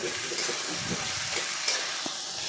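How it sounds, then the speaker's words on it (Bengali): Stalks, potatoes and onions frying in a pan while being stirred, a steady soft sizzle with occasional scraping and stirring clicks, close and alone, for a Bengali mixed fish curry. "এদিক ওদিক নাড়াচাড়া করে ডাঁটা, আলু, পেঁয়াজগুলোকে ভেজে নিলাম।"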